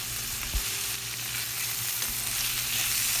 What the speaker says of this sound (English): Once the onions are cooked, add the potatoes.